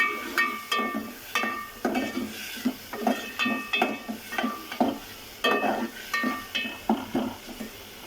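Onion and turmeric masala frying in a pan, stirred steadily with a spoon in repeated scraping strokes over a soft continuous sizzle, with occasional metallic clinks of utensil on pan; no talking.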